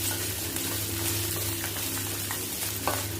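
Three dried red chillies frying in oil in a pan with onions for Tamil-style tomato chutney, a steady close sizzle that runs unbroken throughout.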